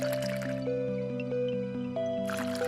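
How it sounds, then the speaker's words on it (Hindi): Water trickles slowly from a pitcher onto soil in a clay pot, giving soft drips and wet squishing sounds over steady background music, with no talking. "और धीरे धीरे पानी डाला।"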